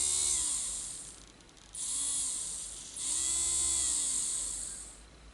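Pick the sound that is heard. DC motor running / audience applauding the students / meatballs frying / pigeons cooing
DC motor running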